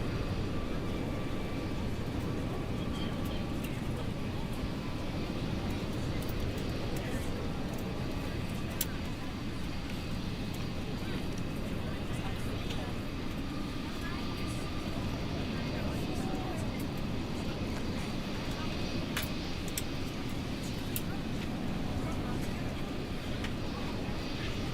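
An Airbus A320neo in Microsoft Flight Simulator 2024 throttles up for takeoff, a steady broadband engine roar filling the scene evenly throughout, with radio chatter faintly over it.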